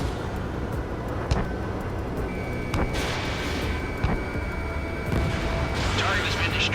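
In the jet combat game Ace Combat 7: Skies Unknown, a missile launches and explodes amid constant engine roar, with several sharp booms and a swelling blast, while radio voices talk over it.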